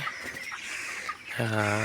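Twenty-four-day-old chickens cluck and call in a crowded poultry farm barn, with a clear drawn-out cluck near the end over steady background noise.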